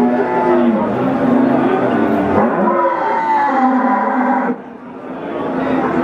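Feeder cattle, Limousin and PO breeds, lowing at the crowded Wirosari cattle market in Central Java: overlapping moos rise and fall almost continuously over a steady market din, briefly dipping near the end.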